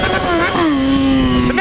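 A Yamaha XJ6 motorcycle engine hums at a steady, loud rev up close, its pitch dipping slightly and then holding even, with wind noise around it.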